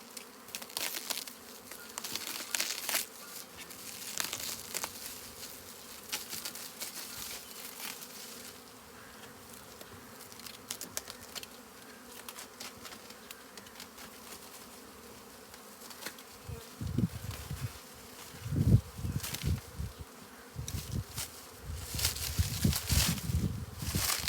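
Steady swarm of honeybees buzzing around a multifunction hive on a fine day, a dense droning hum with louder bursts as bees pass close, no voices.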